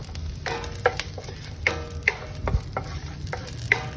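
Garlic frying in a pan for tuna fried rice, a soft steady sizzle broken by scraping stirs and a few sharp clinks of a utensil against the pan.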